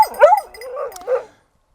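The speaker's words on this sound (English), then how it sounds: "I apologize for the dog that is barking" A dog barks and whimpers several times in a short close burst, with yelping calls rising and falling, in a room while a military surplus backpack is being shown.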